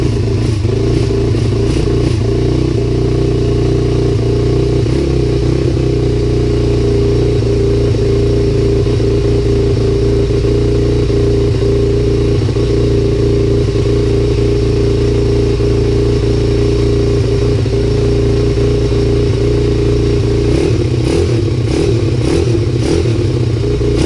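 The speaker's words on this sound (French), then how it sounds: "J'espère que du coup la dirt va bien vouloir démarrer." A 140 YX dirt bike fitted with a replica Akrapovič silencer runs cold, a loud, steady close engine drone with a constant uneven chug and bursts of revving near the start and end.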